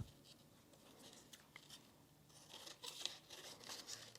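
Scissors snipping through folded suminagashi marbled paper along a fold line, a run of soft, close crisp snips and paper rustles, faint at first and growing a little louder toward the end, with no talking.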